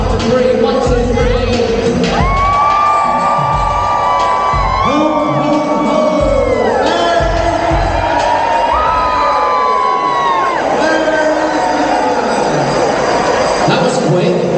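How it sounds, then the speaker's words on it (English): A crowd on the P&O cruise ship Arvia at Christmas lets out a loud, sustained cheer with children shouting, whoops rising and falling over roughly fifteen seconds, close and continuous. "Let's have a cheer in. One last big one after 3."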